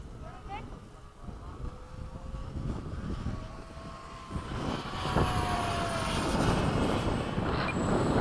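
An F-16 and a Twin Otter make a touch-and-go pass at an airfield, their engine roar building steadily and growing louder toward the end, with people talking over it.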